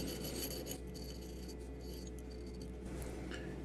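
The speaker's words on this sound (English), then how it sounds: "Some needle file work to remove the burrs that the end mill creates." A needle file deburring a machined drink bottle adaptor, heard as close, quiet rasping and scraping strokes over a steady low machine hum.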